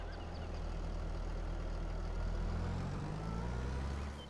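Tractor engine idling in Farming Simulator 22, a steady low rumble that stays close and even throughout with no talking.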